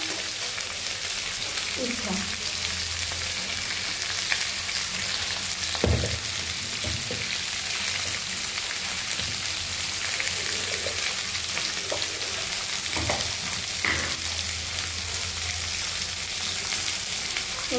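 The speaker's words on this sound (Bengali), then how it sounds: "ক্যাপসিকাম, এটাকে একটু হালকা করে ফ্রাই করে নিচ্ছি।" Capsicum pieces fry lightly in a pan with tomato, a steady continuous sizzle held for a long stretch, punctuated by a few sharp stirring knocks and scrapes, at a moderate, even level.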